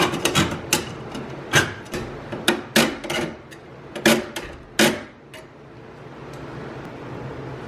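Cutting and flaring a brake line on a 1985 Toyota 4Runner build, a run of sharp metallic clicks and taps in an irregular rhythm, close and fairly loud, then tapering to quiet shop ambience.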